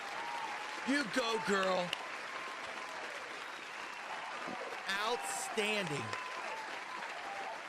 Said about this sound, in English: Everybody, round of applause for Miss Chelsea.